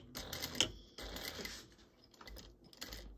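A sewing machine stitching a fabric tomato-shaped pouch, sewing past a 3/8-inch seam, makes quiet, uneven mechanical clatter in short bursts and pauses, with no voices.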